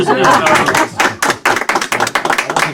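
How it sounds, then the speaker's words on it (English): Audience members clap after a sleight-of-hand card trick, starting as a brief, loud patter and thinning to a few distinct claps, with voices mixed in. "Let's give him a round of applause"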